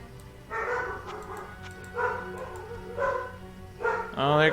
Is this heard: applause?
no